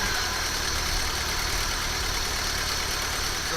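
A 1974 BMW E12 520, unrun for over ten years, idles roughly and unevenly with a steady, loud engine drone and lumpy low rumble throughout, no talking.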